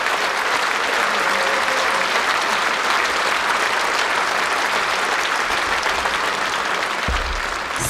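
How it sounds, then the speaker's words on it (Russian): A concert hall audience at the Loktev Ensemble's 85th anniversary show gives loud, sustained applause, a thick wash of clapping that carries on unbroken to the end. "Браво, громкие аплодисменты"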